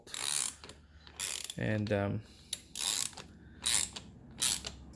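A ratchet clicks in several short bursts while backing a bolt out of a Honda valve spring compressor tool, releasing spring tension, with a brief spoken word and a low tonal hum from the tool in between.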